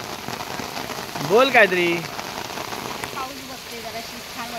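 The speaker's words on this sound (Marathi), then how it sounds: "आम्ही झाडं लावल्यानंतर एवढा पाऊस आहे ना खूप पाऊस आहे ना" Heavy monsoon rain pours steadily onto a garden with newly planted mango, cashew and coconut saplings, a dense continuous patter with a person speaking briefly over it.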